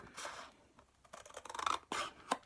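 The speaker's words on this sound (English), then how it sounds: "And I'm going to cut here," Scissors snip through card stock while trimming artist trading cards, a few short crisp cuts and rasping slides in close, quiet succession with no talking.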